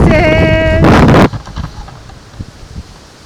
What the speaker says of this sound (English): our beach walk was mainly just really, really windy